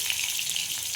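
Seven or eight garlic cloves fry with cumin in hot oil, giving a close, steady, hissing sizzle throughout with faint stirring.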